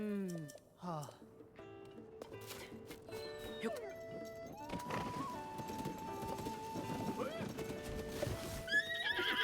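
A horse in the Zelda Tears of the Kingdom video game whinnies loudly at the start, then clip-clopping hooves follow amid game effects and music, with someone talking over parts of it.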